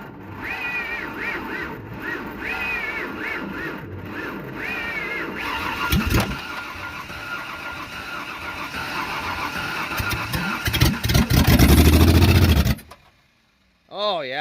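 A Ford Ranger engine cranking and firing up, then running loud and rough with revving surges and squealing tones, nearby voices talking over it before it cuts off abruptly near the end.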